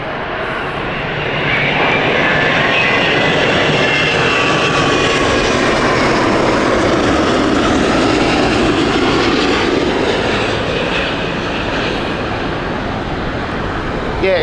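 A Virgin airliner passes at London Heathrow Airport, its engines swelling from a distant roar to a loud, close rumble with a shifting, sweeping whine, then easing off as it moves away.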